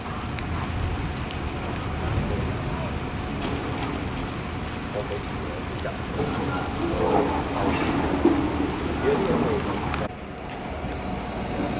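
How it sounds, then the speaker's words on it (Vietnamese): Steady rain falls outdoors near a river bridge collapse site at Phong Châu Bridge, a broad hissing wash with moderate intensity and wind, while people talk over it; the noise drops abruptly near the end. "mưa bây giờ nó cũng giảm đi nhiều rồi, không còn nặng hạt như hồi nãy nữa ha"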